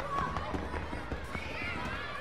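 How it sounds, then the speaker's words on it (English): Firecracker bursts in the video game FNAF Into the Pit, a run of sharp popping cracks with a voice talking over them. "Firecracker."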